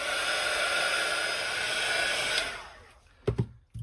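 A heat dryer drying paint on a mixed media art tag, a steady loud whooshing blow that winds down and stops, followed by a couple of soft handling knocks.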